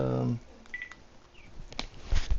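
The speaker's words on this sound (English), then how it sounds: "All right, I got to get Joey on the phone here" A voice speaks briefly, then a few short telephone dialing tones beep in sequence as a call is placed, followed by faint clicks and thumps.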